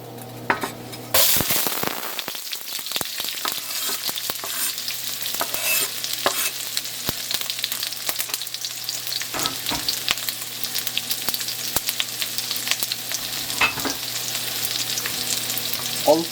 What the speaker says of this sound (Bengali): আমাদের তেলটা গরম হয়ে গেছে। এখন আমরা পেঁয়াজ, রসুন আর আদাটা আমরা দিয়ে দেব।